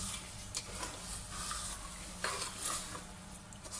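Semolina halwa with milk mixed in a pan, a soft continuous sizzle and hiss with a few scraping stirs and light clicks of a spoon, close but quiet.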